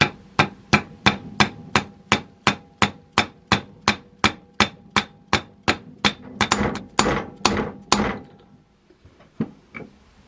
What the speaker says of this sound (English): I'm going to use the same method, just use a socket to tap it down into place.